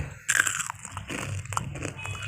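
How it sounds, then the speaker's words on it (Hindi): Homemade Kurkure chips crunched up close while being eaten, a run of crisp biting and chewing crackles over a soft background, with a brief spoken word at the end. "मैं आपको खाकर चेक कराता हूँ ये कितने क्रिस्पी तैयार हुए"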